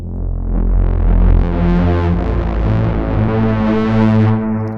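A thick, heavily distorted Moog Matriarch synthesizer tone in one-voice mode droning loudly and steadily, gritty and buzzing with shifting harmonics, alone without any voices.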